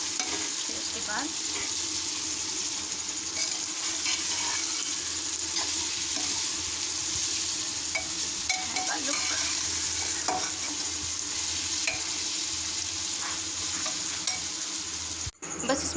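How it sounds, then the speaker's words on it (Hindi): Jackfruit being stirred in a cooking pot, with a steady soft scraping and bubbling sizzle that runs unbroken throughout at moderate level, ending with a brief knock near the end. "अब इसको हम मिक्स करके थोड़ा सा पानी डाल के"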